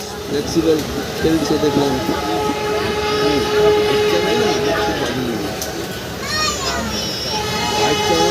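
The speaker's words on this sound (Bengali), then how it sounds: "রোলকেল্লা হাওড়া বন্দে ভারত আমাদের তাম্রলিপ্ত এক্সপ্রেসকে করছে ওভারটেক।" Vande Bharat Express passing the Tamralipta Express at night near Howrah, heard from aboard the train: a steady rumble of rolling wheels with a brief horn or whistle, continuous throughout, with voices and children in the background.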